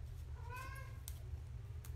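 A pet cat gives a short, clear meow over a steady low hum, fairly faint and indoors in a kitchen.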